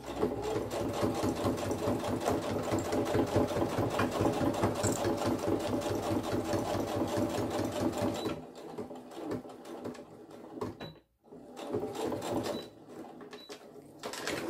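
A sewing machine stitches fabric for a zippered pouch steadily in a fast mechanical rhythm for about eight seconds, then stops and restarts in shorter bursts with brief pauses between.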